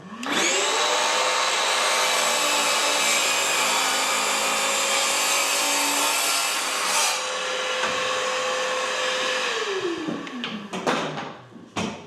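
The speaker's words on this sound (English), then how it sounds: "Extractor on." A workshop dust extractor spins up with a rising whine, roars steadily at close range for several seconds, then winds down, ending with a few knocks and handling sounds during a skirting board repair job.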